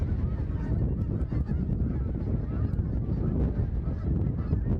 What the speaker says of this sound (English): a large flock of Canada geese found themselves grounded on the shoreline